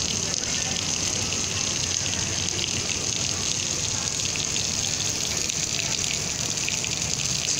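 Sculpture fountains at a shopping mall pour water in a steady, loud, continuous gush close by, with faint voices beneath.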